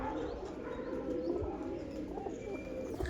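Soft, low cooing from pigeons repeats over a steady background hum, fairly quiet and continuous throughout.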